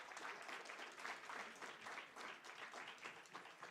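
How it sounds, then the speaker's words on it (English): Audience applause at a teaching and learning festival, a steady wash of many hands clapping at moderate, fairly quiet level throughout, with no voices over it. "can we give another round of applause?"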